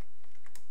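A few quick, soft clicks of keys on a computer keyboard while C code is typed, close and brief, with no talking.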